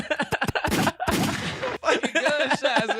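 Rapid bursts of loud gunshots, some in quick clusters like automatic fire, ring out close by, with broadband blasts and echoing decay between them.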